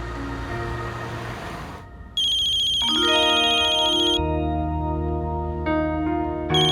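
A mobile phone rings with an incoming call, a bright electronic melodic ringtone with bell-like chimes that begins after a softer musical passage and keeps ringing loudly with no talk over it.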